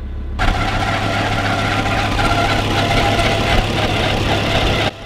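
A Kubota M125X tractor engine idles roughly after warming up, a steady, low, rumbling drone that starts abruptly and runs close and loud for several seconds before cutting back near the end.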